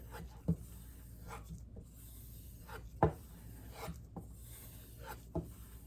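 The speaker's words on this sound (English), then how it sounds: "I'm really stropping this because it's never, as far as I'm aware, it's never been sharpened" A knife is stropped on a hard Arkansas sharpening stone, giving a series of soft, scraping strokes roughly a second or so apart, fairly faint and steady, with no voices.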